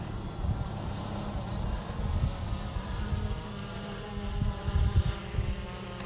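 A Hubsan Zino drone flies overhead outdoors, giving off a faint, steady whining buzz that swells slightly at times, with light wind noise underneath.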